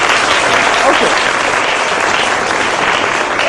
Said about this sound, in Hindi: तालियां बजा के जो हाँ कह रहे हैं कि माहिरा को ड्राइविंग आती होगी, तालियां बजा के बताएं